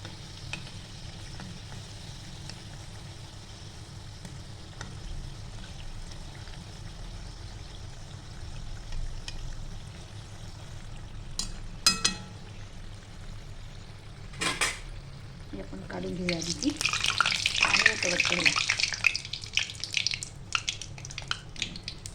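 Karanji pastries deep-frying in hot oil give a soft, steady sizzle, broken by a few sharp clinks of utensils and a louder burst of bubbling crackle near the end.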